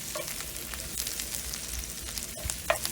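Eggplant stir-fries in plenty of oil in a pan for a soy-sauce braise, giving a steady crackling sizzle with small pops and stirring scrapes, close and unbroken, with no voices.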